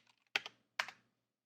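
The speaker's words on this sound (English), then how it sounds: "while typing on a mechanical keyboard" Two short bursts of clacky mechanical keyboard typing, close and crisp, each a quick cluster of keystrokes separated by a brief pause, with no voice.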